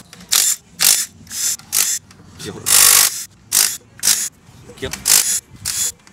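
Ratchet wrench loosening 12 mm bolts around a B20 VTEC turbo engine casing: repeated bursts of bright clicking ratchet strokes, about a dozen in quick succession, close and loud, with a brief spoken word in between.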